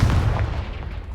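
Blasting-spell explosion from the Confringo charm in Hogwarts Legacy, cast at a pile of debris blocking a stairwell: a heavy, low booming burst that rumbles and slowly fades over about a second.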